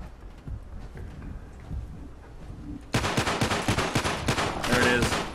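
Pistol gunfire in the video game Fallout 4: a quiet lead-in gives way to a sudden rapid string of loud, sharp shots that continues to the end.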